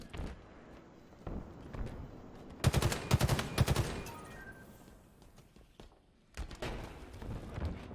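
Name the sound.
gunfire in a video game match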